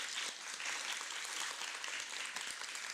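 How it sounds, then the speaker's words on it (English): An audience claps steadily through a school band concert, the dense broadband applause filling the room evenly with no voices on top. "And you guys can clap too."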